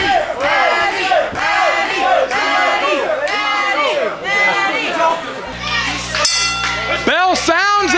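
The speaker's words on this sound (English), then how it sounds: "Bell sounds." A wrestling ring bell clangs repeatedly at an indoor independent wrestling event, ringing out over a loud, cheering crowd.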